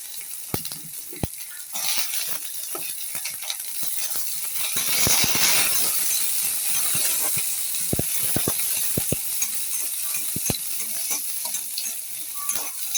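Onion and garlic sautéing in a home kitchen pan; close frying sizzle with repeated sharp spatula clicks and scrapes, swelling louder midway and then staying steady, with no talking.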